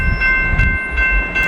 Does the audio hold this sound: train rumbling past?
yes